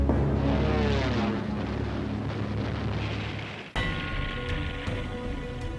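Luftwaffe military aircraft in flight, a loud, steady broadband engine roar with wind-like rushing that cuts abruptly midway and resumes at a slightly different tone.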